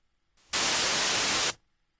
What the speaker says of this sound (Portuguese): Vamos escutar o ruído branco e observar ele no espectrograma.